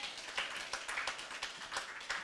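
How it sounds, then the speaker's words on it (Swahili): Church congregation clapping for Jesus, quiet rhythmic handclaps in an even beat, somewhat distant and faint. "Singempigia hata Yesu makofi mazuri?"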